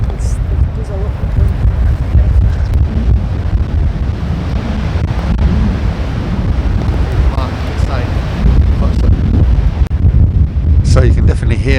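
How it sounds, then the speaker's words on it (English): Strong wind gusts across an open golf course, a loud, constant roar buffeting the microphone, with voices talking over it at times. "So you can definitely hear the wind's picked up quite a bit here"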